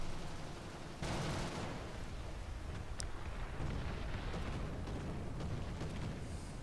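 A bomb bursting on a tank in the video game War Thunder ground battle, a heavy blast near the start followed by rumbling debris and scattered crackling impacts.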